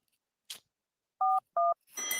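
Two clear telephone keypad tones beep in quick succession after a brief click, each short and steady, followed by a burst of hiss.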